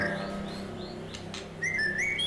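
Birds call in the surrounding open outdoors, with several thin, high chirps and whistles scattered over a steady low background hum, moderately faint and with no voices.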